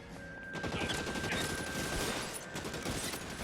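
Gunfire in the video game LA Noire, rapid cracks of a shootout heard at moderate distance with a steady low rumble underneath, fairly quiet overall and no talking.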